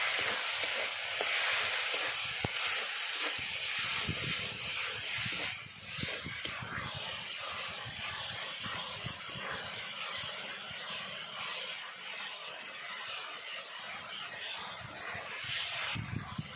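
Masala with turmeric, coriander and other ground spices fries hard in a pan for a chicken and raw jackfruit curry, a loud close hiss and sizzle that eases to a steady crackle partway through, with no voices.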